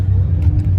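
A Datsun drives past at a car meet, a brief, loud, close engine rumble lasting under a second.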